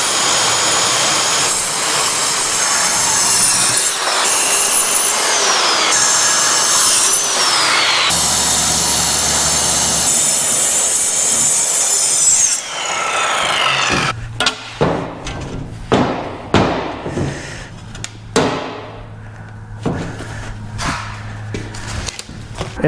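A small saw setup cuts sheet metal for custom truck toolboxes with a loud, sustained high-pitched whine and grinding for about twelve seconds. Scattered clanks and metallic knocks follow as the cut ends.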